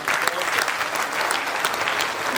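A conference audience at the Sarva Adivasi Maha Sammelan gives a round of applause, with dense, steady clapping from many hands that stays loud and continuous throughout.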